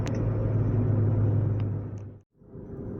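A Mazda 626 accelerating flat out in first gear during a top-speed run, a steady low engine rumble heard from inside the car, cutting out briefly near the end before resuming.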